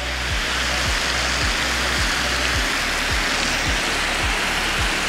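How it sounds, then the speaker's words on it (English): A backyard waterfall feature at a brand new Las Vegas mansion pours steadily, a dense, even rush of splashing water that stays loud and unbroken throughout, with faint low thumps beneath. "not just a waterfall feature"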